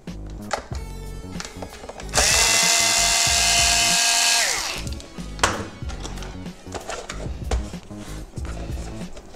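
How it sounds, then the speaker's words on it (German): A power driver fitted with a Torx 10 bit whirs loudly for about two seconds while loosening screws on a 2000 VW T4 display unit, with clicks and handling noises before and after. "wir nehmen den Torx 10, lösen die zwei Schrauben"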